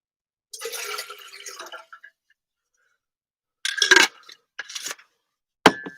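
Drinking water poured inside a van, with a longer splashing pour early on, then a few short separate trickles and clinks after a pause, close and fairly quiet.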